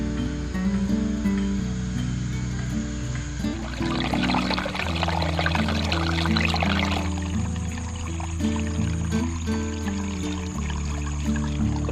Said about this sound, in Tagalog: fresh water guys, galing sa ilalim ng lupa